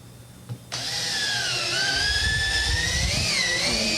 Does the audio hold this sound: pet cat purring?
no